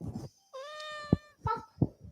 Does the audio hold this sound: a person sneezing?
no